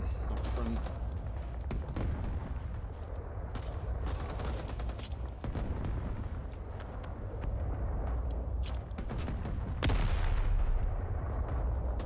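Explosion and ongoing gunfire in the Vietnam War shooter Rising Storm 2: Vietnam, scattered rifle shots and bursts crackling near and far across the battlefield, with a heavier blast rumbling near the end.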